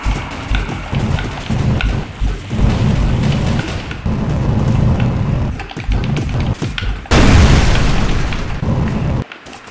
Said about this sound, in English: There was a shockwave.